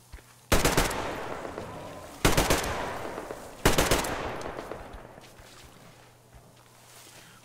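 Gunfire in the video game Metro Exodus: three separate loud bursts of rapid shots, each followed by a long echoing decay, heard up close over a quiet low background hum.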